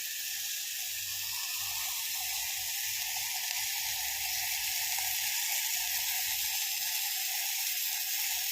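Blended puree for lasooni methi hits a hot pan, producing a continuous loud, even sizzle that holds steady with no pauses or voices.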